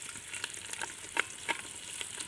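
Onions and chillies sizzle steadily in hot oil in a pan, with a close, continuous frying hiss and a few sharper pops and stirring scrapes.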